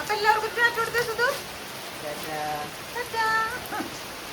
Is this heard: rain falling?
yes